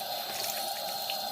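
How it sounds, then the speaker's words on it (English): Dirty socks are rinsed by hand under running water, a soft continuous splash and trickle at close range with small drips and sloshes, steady and fairly quiet, with no voices. "If you don't rinse your socks first, you're basically gonna wash all your other clothes in dirty water."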